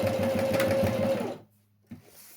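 Sewing machine stitching a fabric coaster, a steady close whir of rapid needle strokes lasting over a second before stopping abruptly, followed by a brief mechanical clunk.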